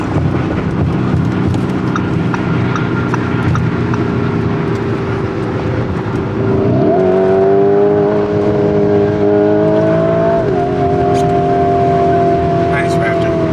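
A Ford Raptor pickup truck accelerating, its engine note climbing and holding a steady drone at close range, with people talking over it.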